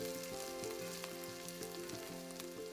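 Green chilies and curry leaves frying in a pan for pepper chicken, a steady soft sizzle with faint crackles running throughout, quiet and without talk, alongside a low steady hum.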